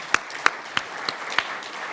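A handful of distinct, sharp claps at a Kansas City cybersecurity event, spaced evenly and fairly close, over a quiet room background rather than full crowd applause.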